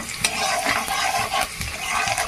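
Chopped whole-bulb garlic fries in mustard oil in a wok, a dense steady sizzle with scraping stirs breaking through now and then, close and continuous.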